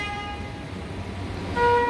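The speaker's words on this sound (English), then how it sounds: "as those horns honk." Car horns honk outside the Brightline train station in Miami, with a sustained toot through the first second and another sharper blast near the end, all over a murmur of road traffic.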